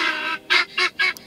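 Guinea fowl on a homestead let out a harsh, honking call followed by three rapid, loud repeated squawks in a clipped rhythm, close by with no talking.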